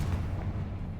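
A Confringo blast spell exploding in Hogwarts Legacy: a deep, rumbling low boom that sustains and rolls for about a second, fairly loud and dull with no voices.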